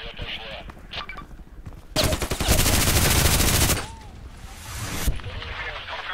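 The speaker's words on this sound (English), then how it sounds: "So obviously the machine gun is really nice to have." RPKT machine gun firing in the video game Contract Wars, a loud rapid burst of automatic fire lasting about two seconds, with scattered in-game shots and a voice talking around it.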